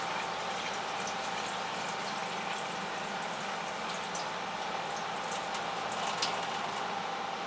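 Water poured off a shipment of live blackworms, a steady trickling splash with small droplet sounds running continuously at moderate level, no voices.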